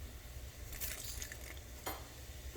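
Cumin seeds and urad dal sizzling softly in a hot pan, with faint crackles and a brief stir of a utensil near the end, cooking for a South Indian-style asparagus thoran.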